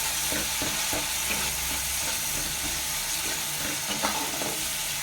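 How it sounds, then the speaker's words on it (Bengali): A spoon stirs well-fried masala with green chillies in a pan for katla fish kalia, a continuous loud sizzle under repeated soft scraping strokes, close up and without speech. "দিয়ে একটু ভালো করে নাড়িয়ে নেওয়া হচ্ছে"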